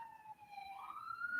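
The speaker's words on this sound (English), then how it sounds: "sirens, woo, woo, woo, woo." A wailing emergency vehicle siren rises and falls in pitch, faint and distant, sounding alone without talk.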